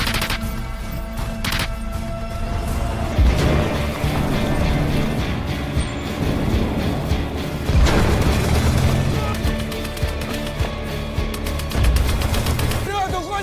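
Mine explosions and tank fire in a World War II tank battle video game, heavy booms and crashes over a dense, continuous rumble of combat, with voices calling out.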